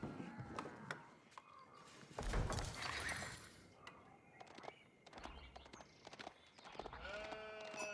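Sheep bleating in Age of Empires IV, several short bleats scattered among clicks, crunches and game effects, with a voice talking over it.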